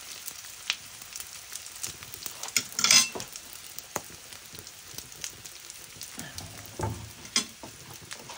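Fish, dried danggit, sizzling as it fries in hot oil: a steady crackling hiss with sharp pops and bursts, one louder flare of spitting partway through, close by and without speech.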